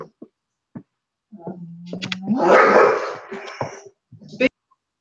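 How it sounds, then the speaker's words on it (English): An unhappy dog held in a timeout whimpers and yips, then lets out a longer rising whine and a brief bark, with short gaps of quiet between the cries. "one of the dogs is having a timeout right now. She's not happy because the other dogs are getting play."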